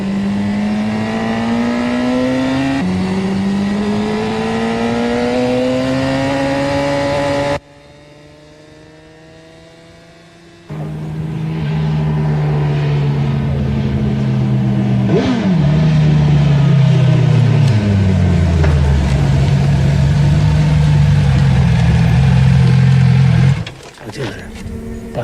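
A motorcycle engine revs under a new rider's unsteady throttle, its pitch climbing and dropping in repeated loud, close surges, with a brief quieter lull midway.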